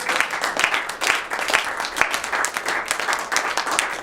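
A church congregation applauds together during a Sunday worship service, a dense, steady wash of many hands clapping with no pause throughout.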